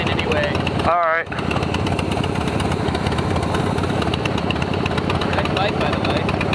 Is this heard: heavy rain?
no